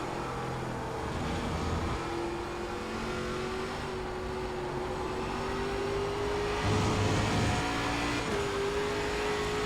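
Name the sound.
ARCA stock car engine short shifting out of fourth, iRacing video game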